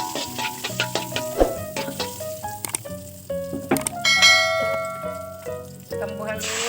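Ground spice paste dropped into hot margarine in a pan: a close, steady sizzle with ringing clangs and clinks of a metal utensil against the pan throughout.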